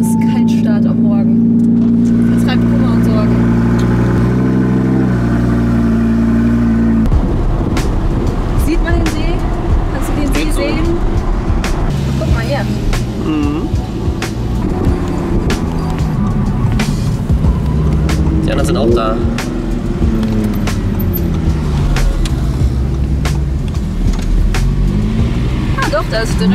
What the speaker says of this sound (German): Eine Dosis Kaltstart am Morgen.